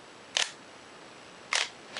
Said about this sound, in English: The bulb setting, the mirror stays up and the shutter stays open as long as I hold the button down.